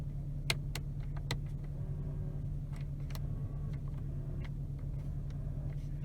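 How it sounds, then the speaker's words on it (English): A used car with about 150,000 miles gets its power mirrors tested, giving faint electric motor whirs and small clicks over a low idling engine hum inside the cabin. "We're also going to check and make sure our power mirrors work."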